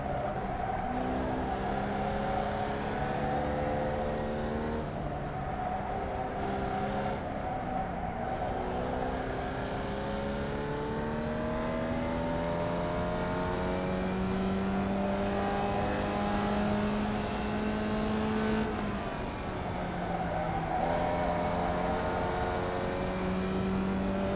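Formula Vee race car engines in the iRacing sim at Okayama International Circuit: a continuous, steady buzzing engine drone with repeated rising and falling pitch sweeps through gear changes, joined by other cars nearby, with no talk.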